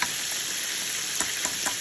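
Croaker fish frying in a pan, a steady close sizzle with a few faint pops and clicks, no talking.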